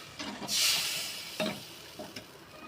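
A pan of banana-flower tamarind curry hisses and sizzles as it boils, with bursts of steam, punctuated by a few soft clinks and stirring sounds.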